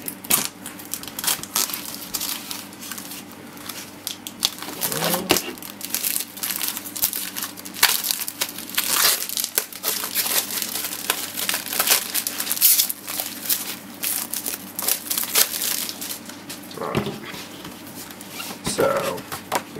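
A laminated Pathfinder Flip-Mat in a thin plastic sleeve crinkles and crunches during unpacking, with irregular close rustles and sharper crackling bursts, and someone talks over much of it.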